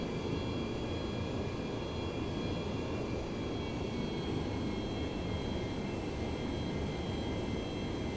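An F/A-18 jet engine drones steadily on carrier approach in IL-2 1946, a constant dense roar with a faint high whine, even in loudness throughout, with no talk.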